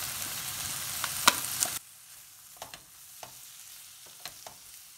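Sliced zucchini and diced pancetta fry in oil with garlic in a pan: a loud, close, bright sizzle for about two seconds, then a much quieter stretch with scattered clicks and scrapes from stirring.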